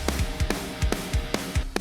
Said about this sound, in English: Much more round and full and all the things that big